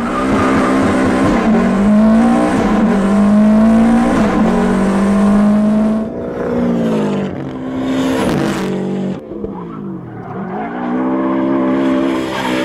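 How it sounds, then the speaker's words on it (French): A Subaru rally car doing donuts and drifts, its engine revving hard and loud with rising and falling pitch as the tires squeal and skid, close by with no voices. "Il y poste une vidéo de lui en train de faire des donuts, des drifts, des cascades avec sa Subaru de rallye."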